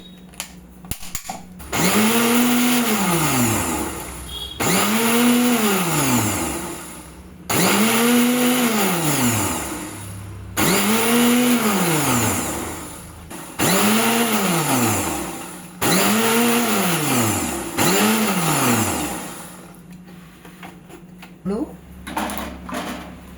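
A kitchen blender mixes a paan shot blend of betel leaf paste, milk and ice cream. It runs loudly in about seven short bursts, each rising and falling in pitch, with brief pauses between them.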